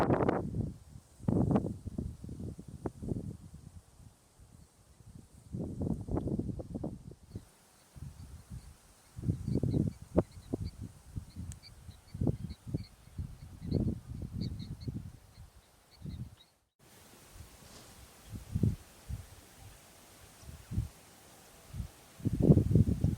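Strong, cold wind gusts through the bush of the South African Lowveld on a winter morning, buffeting in repeated low, rumbling bursts with brief lulls between them. No one speaks.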